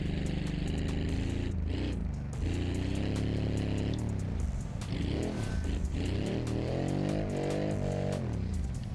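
A car engine in BeamNG revs hard after a badly missed shift into second gear. The roar is loud and continuous, with pitch sweeping up and down as the revs climb and fall over several seconds, and nobody talks over it.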